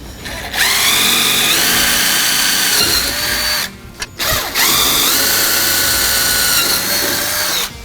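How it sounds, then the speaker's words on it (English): A power drill with a 3/32 bit bores pilot holes into the metal of a 2023 Super Duty front end. It makes a loud, close, steady whine, briefly pauses and winds down mid-way, then resumes with no talking. "I'm going to take a size 3/32 drill bit to drill pilots"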